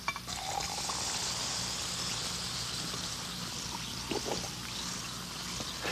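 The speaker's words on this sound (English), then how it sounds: "while these are still fizzing" Bromo-Seltzer effervescent tablets fizzing in a glass of water, heard in a vintage TV commercial: a steady close bubbling hiss that runs throughout with small pops and no talk.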